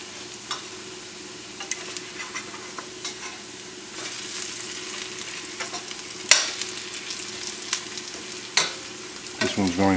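Potato pancakes frying in olive oil over a relatively high flame, a steady close sizzle dotted with sharp pops and spatula clicks that grow busier, ending in a louder scrape.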